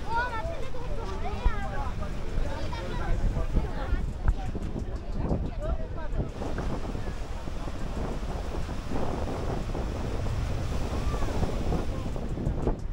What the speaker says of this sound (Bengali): তার সাথে দীঘার জগন্নাথ মন্দির আর এই সমুদ্র সৈকত এসেও কিন্তু তোমাদের সমুদ্রের ঢেউটা শেয়ার করলাম